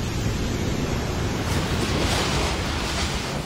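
Strong typhoon waves pounding a resort in Dipaculao, Aurora, heard as a dense, continuous roar of surf and wind with no break.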